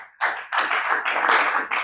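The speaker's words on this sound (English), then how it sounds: "Clap for Jesus." A church congregation claps for Jesus during a sermon on finance in ministry, dense close clapping starting after a short pause and continuing steadily in bursts to the end, with no talking over it.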